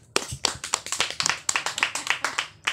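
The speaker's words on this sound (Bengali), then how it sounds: "তালিও একটা" A small group of people claps unevenly at a fun bottle-toss game, sharp distinct hand slaps in a loose rhythm, close and fairly loud, with no other sounds between them.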